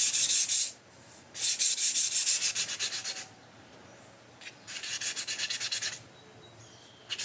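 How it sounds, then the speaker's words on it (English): Hand sanding of glazing putty on a Craftsman 22-inch self-propelled lawnmower being refurbished, heard as close, loud rasping strokes in three long bursts separated by quieter gaps. "So you can just get right to sanding."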